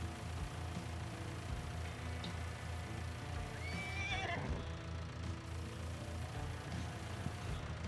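Horses in Farming Simulator 19 on a North Frisian marsh farm whinny once, a high wavering neigh midway over a steady low engine-like drone, with faint hoof clops and no talk.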